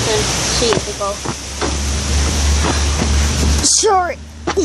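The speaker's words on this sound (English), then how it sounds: "Sorry about the wind." Wind buffeting a microphone outdoors, a steady low rumble and broadband roar running throughout, with a person talking over it and a sharp gust near the end.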